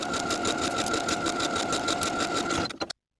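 A sewing machine edge stitches a rolled hem on a fitted pullover top, a fast steady rattling run of needle strokes, close and loud, that stops abruptly just before the end.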